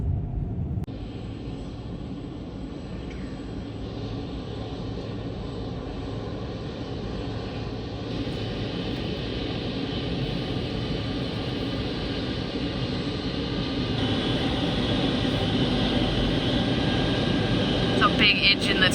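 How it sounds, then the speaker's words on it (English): A large aircraft engine roars steadily and grows louder and closer, with a high whine above the broad rumble. "It's a big engine that's coming straight at us."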